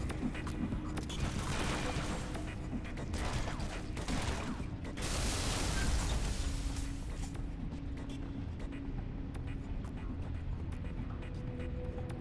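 Rapid automatic weapon fire in a Halo game, a dense continuous rattle of shots close up that carries through most of the stretch before easing into scattered pops and ambient rumble, with no voices.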